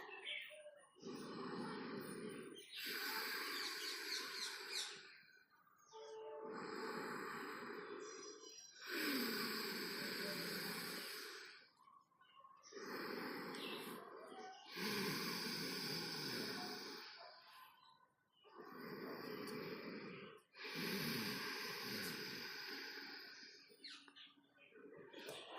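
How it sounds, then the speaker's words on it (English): Slow, audible ujjayi yoga breathing, each long throaty breath rising and falling in a steady cycle of about five breaths, close and fairly loud, with a soft hiss and raspy texture and no talking. "And continue with the ujjayi breath"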